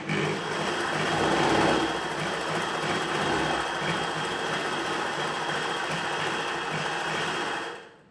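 A sewing machine runs steadily stitching a chudidhar pant near the tucks at the end of the fabric, a continuous close whirring hum lasting several seconds before stopping abruptly.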